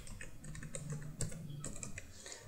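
Steady typing on a computer keyboard while entering HTML code for a password field in a registration form, with close, continuous rapid key clicks and no speech.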